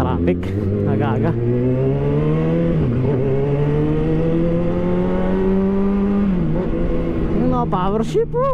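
A 2020 Kawasaki ZX6R motorcycle accelerates through traffic, its loud, close engine note climbing steadily, then dropping sharply at two quick power-shifted upshifts before rising again.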